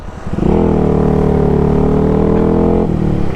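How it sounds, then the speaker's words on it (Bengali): A modified Yamaha R15 V3 motorcycle exhaust revs up close, rising quickly to a loud, steady throaty roar held for a couple of seconds before dropping off. "এক্সস্টের সাউন্ড"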